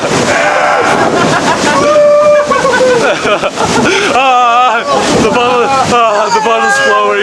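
A vehicle pushes through deep flood water on a city street, a rushing splash and wash of water with wind buffeting the microphone, while excited voices shout and talk loudly over it.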